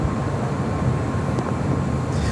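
Steady roar of an airliner taking off from runway 25 right at LAX, a continuous broad rumble at constant loudness with no voices.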